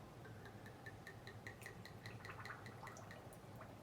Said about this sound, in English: Lovely little sound, the glugs.